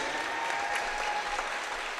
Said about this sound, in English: Once more, let's have a round of applause for all of our upcoming Miami Trace Panthers